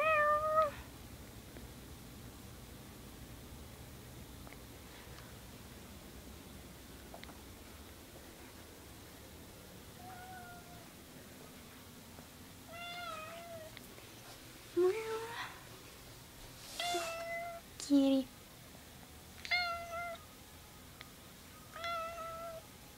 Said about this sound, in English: There's a kitty right there.